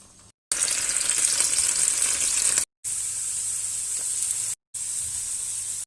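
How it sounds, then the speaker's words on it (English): Potato slices sizzling in a hot oiled pot, a loud steady frying hiss in three bursts separated by brief cuts, no speech. "sprinkle a little bit of salt so that it will flavor the potato, and then you add your potato slices"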